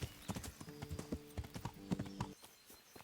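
Horse hooves clip-clop in a steady trotting rhythm in Kingdom Come Deliverance, close and clear, with a tonal game sound layered over the middle and the hoofbeats thinning toward the end.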